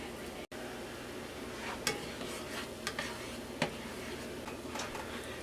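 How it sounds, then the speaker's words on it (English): Butter melting in a pan on the stove, a soft continuous sizzle with a few light clinks and taps of a utensil against the pan. "In this pan, I melt 2 tablespoons of butter."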